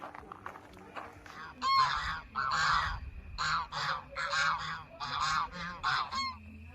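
Geese at a lake honk in repeated loud bursts, several birds calling together in a rhythmic, clamorous sequence, close by.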